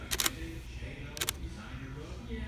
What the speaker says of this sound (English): Try and take a picture. Does the shutter move?